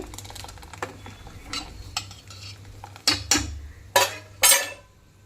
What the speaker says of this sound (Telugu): ఈ డ్రై ఫ్రూట్స్ అంతా అందులో వేసేస్తా.